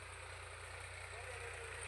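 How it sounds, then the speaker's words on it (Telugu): A tractor engine idles in a farm field being readied for maize sowing, giving off a steady, low, droning rumble that stays faint and unchanging throughout. "అక్కడ లోపల ట్రాక్టర్ కొడుతున్నారు."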